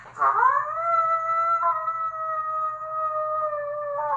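A person imitates a wolf howl: one long, sustained howl rises quickly and then holds a steady pitch for about four seconds, close and clear, with faint music underneath.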